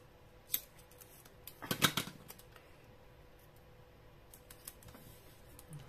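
A quick burst of scissors snipping through paper, a few close, crisp cuts in a cluster, with a lighter click before and after in a quiet room.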